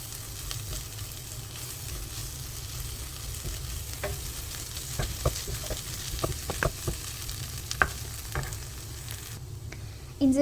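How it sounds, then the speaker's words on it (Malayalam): Ginger garlic paste frying with onions in a pan, a steady close sizzle with scattered spatula scrapes and taps throughout, no talking. "നമുക്കിനി ഇതിലേക്ക് 1 ടേബിൾ സ്പൂൺ ഇഞ്ചി വെളുത്തുള്ളി പേസ്റ്റ് ചേർക്കാം"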